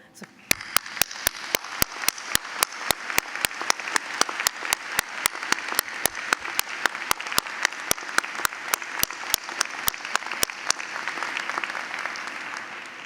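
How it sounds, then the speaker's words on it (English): A university spring convocation audience gives sustained applause, a dense wash of many hands clapping for over ten seconds, with a sharp regular click punctuating it, before fading toward the end. "join me in giving a resounding round of applause to your family members and supporters"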